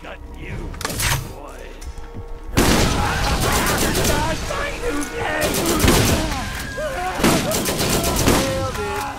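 Shotgun blasts ring out in the shooter game Borderlands, a few sharp reports early, then a louder, busy stretch of repeated gunfire over clattering game noise.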